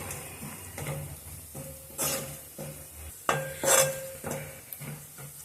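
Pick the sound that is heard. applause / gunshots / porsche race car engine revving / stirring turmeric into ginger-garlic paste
stirring turmeric into ginger-garlic paste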